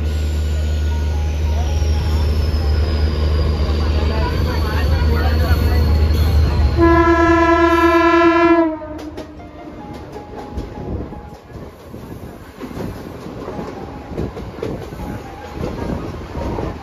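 A train rumbles past loudly near a station in Badlapur during rain, with a long horn blast near the end of its pass, then the roar cuts off to a quieter, uneven background.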